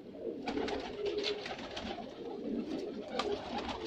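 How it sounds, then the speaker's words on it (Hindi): Soft, repeated cooing of pigeons nearby over a low background murmur, several overlapping calls throughout. "बखीत अतीक रुमेसी साहब के जी फार्म से ये कबूतर आए हैं।"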